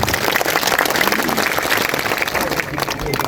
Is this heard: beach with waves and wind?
no